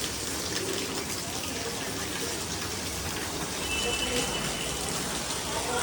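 Steady rain pours outdoors in a village setting, a dense, even hiss that holds at a constant level for the whole stretch with no talk over it.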